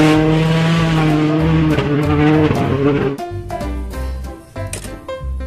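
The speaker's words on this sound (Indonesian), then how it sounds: "Wow, lihat, ada mobil balap." A toy race car's engine sound whines at a high, sustained pitch, then shifts and roars with revving bursts and squeals, loud and close.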